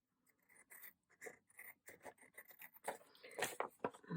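Scissors cutting a piece off a paper card for a handmade flowerpot card, a close run of crisp snipping and rustling strokes that grows louder and quicker toward the end, no talking.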